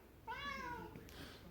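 A cat, an overseas rescue, gives a single clear drawn-out meow up close, with a faint scrape just after it in an otherwise quiet room.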